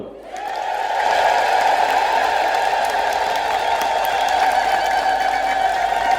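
A church congregation ululates together in celebration, a loud, sustained, high trilling chorus that rises within the first second and holds steady throughout.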